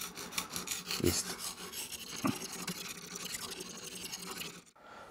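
A knife blade is sharpened on a Lansky sharpener stone with steady rasping strokes, close and fairly quiet, a few sharper scrapes standing out before it stops.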